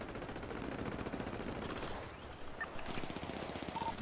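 Gunfire in Rust at a scrapyard during an ambush on another team: a dense, continuous stream of rapid shots runs the whole way with a brief dip partway, moderately loud and close.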